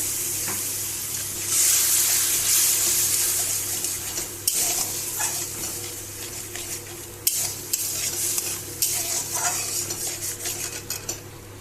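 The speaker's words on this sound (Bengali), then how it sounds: "সামান্য একটু জল দিয়ে মশলাটা কষিয়ে নেব।" Spice paste is sautéed with a little water in a pan for a vegetarian mixed-vegetable curry: a bright hissing sizzle swells then settles, with frequent metallic scrapes and knocks of the spoon stirring.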